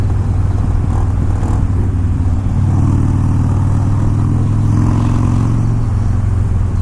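Harley-Davidson Dyna motorcycle engine while riding, a loud, close, steady low rumble with a brief rise in revs partway through, alone without talk.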